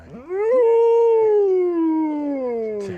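A guard dog lets out one long, loud howl close by. It rises quickly, holds steady for more than two seconds, then sags slightly in pitch as it fades.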